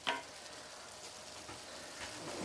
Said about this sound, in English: So I just keep stirring, get that flavor dispersed